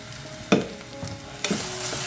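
Ragi dish cooking in a pan, with a steady sizzle and frying hiss broken by a few sharp scraping stirs of a spoon against the pan.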